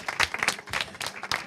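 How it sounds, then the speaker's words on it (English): An audience claps together in a short burst of applause, dense and fairly close, with the clapping rising and falling in uneven waves and no talking over it. "Y'all can clap."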